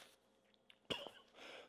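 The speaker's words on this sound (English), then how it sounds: "Hope I can get over this cough." A single short, sharp cough from a person nursing a lingering cough, close and abrupt against a very quiet background, followed by a brief breathy tail.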